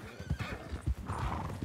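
Horse hooves clip-clop at a gallop in a ranch-themed roleplay video game, with a neigh and excited players' voices over the rhythmic, close hoofbeats.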